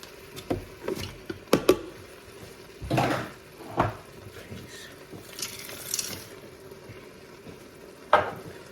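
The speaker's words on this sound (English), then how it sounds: "Give it a good stir." Mince with carrots and peas fries in a Ninja Foodi pot, a soft sizzle broken by scattered spoon scrapes and knocks against the pot as it is stirred, close and fairly quiet.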